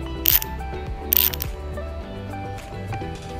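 A SATA ratcheting screwdriver clicking through its ratchet, with two sharp bursts of clicks followed by quieter rattling, close up and alone.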